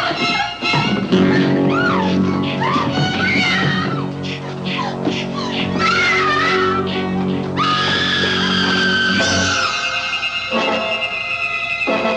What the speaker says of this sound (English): a woman screaming in abject terror